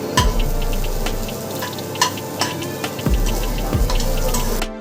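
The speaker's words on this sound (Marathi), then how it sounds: "कॅबेज पण आपल्याला अर्धा सेकंदासाठी छान परतवायचं आहे" Cabbage and green chillies being stir-fried in a pan for fried rice, giving a steady close sizzle with scraping clatters and a few sharp metallic knocks from the spatula against the pan.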